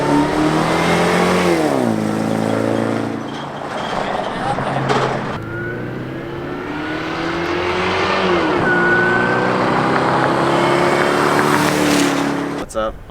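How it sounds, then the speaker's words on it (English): A supercharged Mustang pulls hard while towing a trailer, its engine revving up through rising sweeps with shifts between, loud and close, as people talk over the roar. "I was gonna turn around and do a pull so you guys can hear the supercharger"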